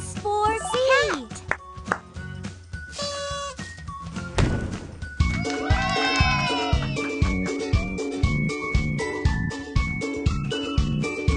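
A cat meows in a children's phonics alphabet lesson, several rising and falling cries near the start, followed by music with a steady beat and a voice over it.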